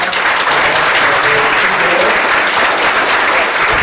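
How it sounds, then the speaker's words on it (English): A conference audience applauds, a dense, loud and steady wash of clapping from a full room that holds at the same level throughout. "Please clap."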